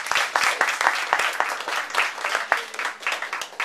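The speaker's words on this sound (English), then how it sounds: "can we have just a little round of applause for Max?" Audience at a Web Wednesday event in Hong Kong clapping for a speaker, a dense, lively round of applause with many hands close by, steady for a few seconds with sharp individual claps standing out.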